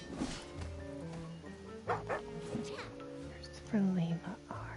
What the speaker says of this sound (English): This is my attack dog.